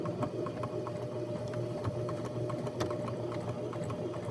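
A sewing machine stitches fabric in a continuous run, its fast, even mechanical whir and needle patter held close and steady throughout, with no talking.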